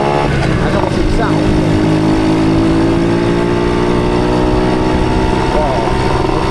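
A motorcycle revs hard nearby at a motor show, a loud sustained engine roar with rising and falling pitch sweeps, while people talk over it.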